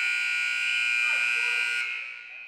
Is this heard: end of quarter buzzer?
yes